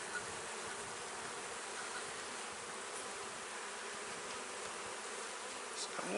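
Honey bees buzz steadily around an open hive frame during a hive inspection, a dense, continuous drone filling the whole stretch with no voices.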